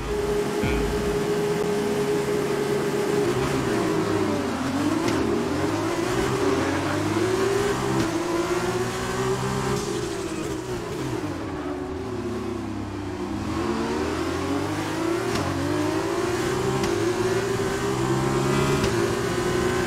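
A Formula 2 race car engine in a Spa racing video game howls close and loud, its pitch climbing and falling through gear changes for the whole stretch with no break, while faint voices chatter beneath.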